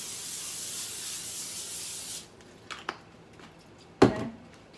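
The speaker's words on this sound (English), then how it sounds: "we're going to spray it with some olive oil" A steady, continuous aerosol olive oil spray hisses onto chicken thighs for about two seconds, then stops, followed by a few soft rustles and a brief handling bump.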